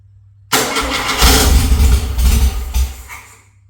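A Volkswagen Beetle engine cranks and catches with the choke being released, then runs loud and rough with low rumbling throb and uneven revs before cutting off after about three seconds.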